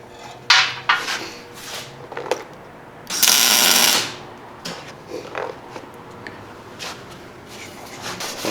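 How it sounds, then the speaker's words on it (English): Short bursts of tack welding on steel wheel bead protector rings, with a few brief crackles and one longer hissing burst midway, between light metallic clinks and shop handling noise. "I'm going to tack weld it now just to get an idea of where these will sit"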